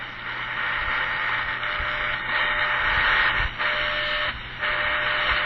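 An Eton Mini portable shortwave radio with a very short antenna picks up a continuous hissy, muffled signal with a low hum underneath and a few brief dips in level.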